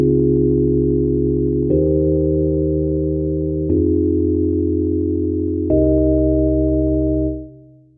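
A raw Rhodes-style electric piano preset called Vibe Alike on a Maschine Plus plays three sustained chords, each struck about two seconds apart and ringing steadily before fading out at the end, with no other sounds.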